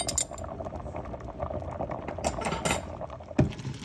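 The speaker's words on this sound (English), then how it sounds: "Just getting these potatoes drained very nicely. You want to get off all of that water." Boiled potatoes for mashed potatoes being drained, with hot water rushing and bubbling out of the pot close by, a steady gurgling flow and a sharp clink near the end.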